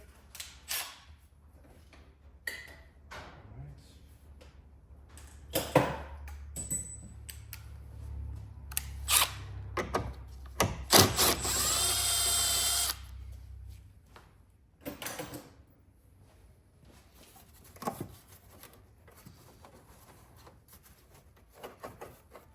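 Close clicks, clanks and rattles of hand tools loosening 10mm bolts on a Dodge Dart air intake box under the hood, with a sustained loud mechanical rasp in the middle and scattered knocks around it.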